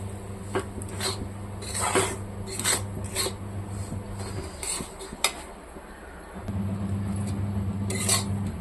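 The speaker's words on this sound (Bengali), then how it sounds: "এখানে আমি এই সুজিটা দিয়ে দিচ্ছি। এটা একটু লাল লাল করে ভাজবো।" Semolina (suji) is fried with onions in a pan, with repeated scraping and rasping strokes of a spoon across the pan bottom. A low steady hum runs underneath, and the strokes are close and fairly loud.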